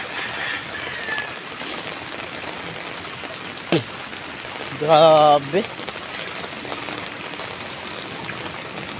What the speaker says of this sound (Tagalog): Ang tindi ng baha, guys. Magdamag po yung ulan